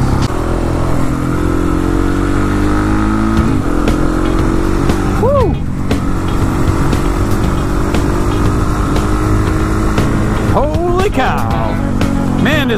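A KTM 701 motorcycle revs and accelerates hard during winter wheelies, its engine loud and continuous from on the bike with wind rush throughout; a few pitch swoops suggest shifts or another passing vehicle, and speech is present.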